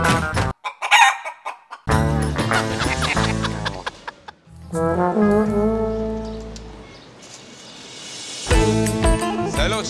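A rooster crows loudly several times, with clucking fowl around it, close to the microphone, broken by brief gaps and occasional voices in a Turkish village scene.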